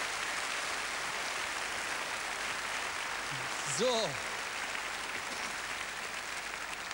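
Studio audience applauding on a 1993 German TV variety show, a steady dense wash of clapping throughout, with a brief voice cutting through near the middle.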